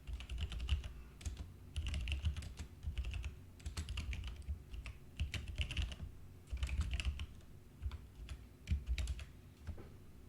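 Code for a simple Java class's main method is typed on a computer keyboard, close-up, in uneven bursts of rapid key clicks with short pauses and no talking.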